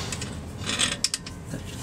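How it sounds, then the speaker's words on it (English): Close mechanical ratcheting and a couple of sharp clicks from a torque wrench on the starter bolt of a Mazda RX8 during a starter upgrade, brief and near. "Torque wrench."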